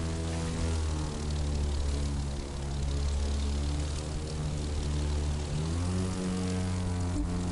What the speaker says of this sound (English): Super responsive, this plane